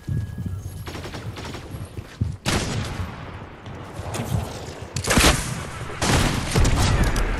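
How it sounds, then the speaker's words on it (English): Loud bursts of gunfire crack in Fortnite, with a sniper firing from nearby. Sharp volleys come in separate clusters with quieter gaps between them, and no talk is heard. "someone is sniping over here"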